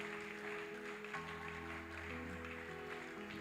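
An audience claps for a speaker being introduced at a technology event, a soft, steady spread of applause heard from a distance, with sustained musical tones playing underneath.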